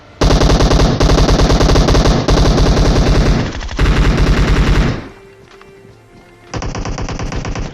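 Rapid automatic gunfire from a video game, loud and sustained in long bursts that break off briefly, then a quieter gap before another burst.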